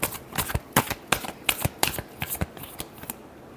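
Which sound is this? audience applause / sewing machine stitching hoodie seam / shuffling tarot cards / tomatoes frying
shuffling tarot cards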